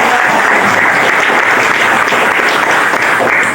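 A room full of people at a university teacher-training session claps in loud, sustained applause, a dense, even wash of hand claps with no talk over it.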